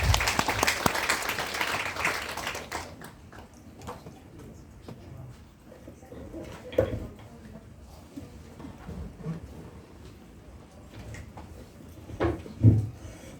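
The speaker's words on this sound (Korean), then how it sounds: "큰 박수로 맞이해 주시기 바랍니다." An audience at a lecture on teaching methods applauds to welcome a speaker, a loud burst of clapping at the start that thins into scattered claps and quiet room noise.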